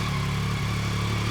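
A warmed-up Yamaha R9 motorcycle with a Yoshimura exhaust idles close by, a steady, loud low rumble with a slight dip midway and no speech.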